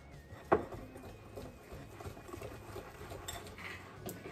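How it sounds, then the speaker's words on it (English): Jiffy cornbread batter with an egg is stirred in a bowl, soft faint scraping and light clinks of a utensil, with one sharper knock near the start. "mix that really well."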